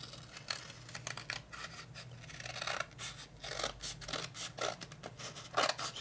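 Excess material being cut away on a custom Harley Evo rigid bobber chopper, a quiet run of irregular snipping and scraping strokes, close and unaccompanied by talk.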